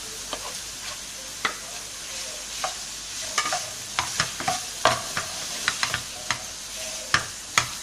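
Potatoes fry in a pan for an aloo paratha filling, a continuous soft sizzle cut by sharp, irregular spatula clacks and scrapes as they are stirred.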